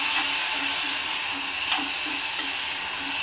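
Chopped raw mango drops into hot oil with dried chili and sizzles in a pan, giving a steady close hiss with faint rhythmic stirring taps.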